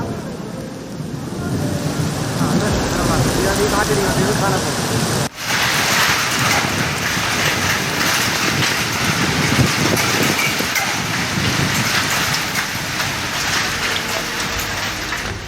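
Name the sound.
heavy rain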